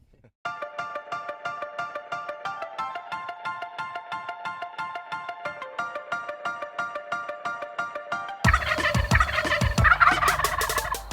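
Wild turkeys in Oklahoma, with a steady pulsing run of tonal calls that persists for several seconds before a burst of louder, noisier sound breaks in near the end.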